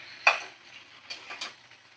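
Fried chicken stirred in a pan while it is being sautéed, with a sharp metallic scrape of the spoon and then two softer scraping strokes, faint and close with a quiet background.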